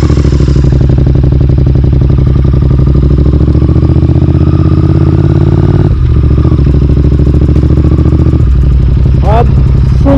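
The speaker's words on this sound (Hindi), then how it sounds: "आप सुन ही सकते हो कि इतना रिफाइन इंजन इसका और ऊपर से इतना बेसियस एग्जॉस्ट" A 2023 Royal Enfield Interceptor 650 twin motorcycle idles loud and close with a deep, throbbing exhaust rumble, steady throughout, with a brief clatter near the end.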